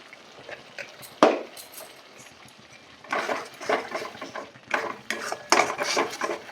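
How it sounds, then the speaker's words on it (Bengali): Metal spoon scraping and clanking against a pan while mushroom and pea curry with ground cumin, coriander and Kashmiri chili is stirred, quiet at first then a run of louder, rhythmic scrapes and knocks. "ভালো করে মিশিয়ে নেব"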